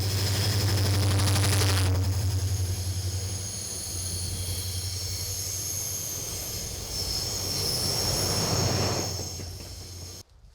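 A train on South Korea's Gyeongjeon Line rolls along the rails nearby through winding village countryside, wheels squealing and rumbling steadily for several seconds before the sound cuts off abruptly.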